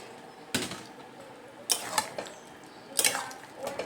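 A large metal mixing bowl being washed while cooking jackfruit curry, with three sharp clattering knocks at the start, middle and end over a light background of water sloshing and dripping.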